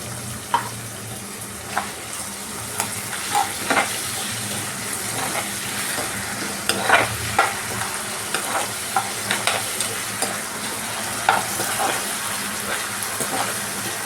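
Ginger garlic paste sautés in a pan for a raw papaya curry. A constant close sizzle carries repeated scraping stir strokes from a spoon, with no talking.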